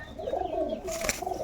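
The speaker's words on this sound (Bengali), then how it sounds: "তিনখানা পাঞ্জাবি পায়রা আছে" Punjabi pigeons coo softly in a brief, low warbling phrase, close and quiet, with no voices.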